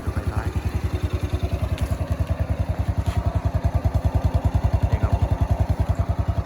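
A 2020 Ryuka Classic 110cc motorcycle with a stock engine idles close by, a steady, even, rapid thumping putter that stays level throughout.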